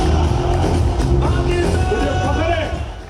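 Crowd at a train opening ceremony in Jhang cheering and clapping, a loud sustained roar of voices and applause close by that fades slightly at the end.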